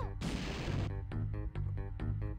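Grenade eggs fired in the video game Banjo Tooie, one long loud explosive burst followed by a rhythmic series of shorter pulsing impacts, with game music underneath.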